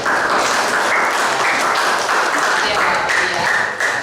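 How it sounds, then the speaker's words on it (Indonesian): A class applauds a student: dense, steady clapping from many hands, loud and close, holding without a break from start to finish. "sebelumnya tepuk tangan dulu buat aplaus buat Mbak Alfeti."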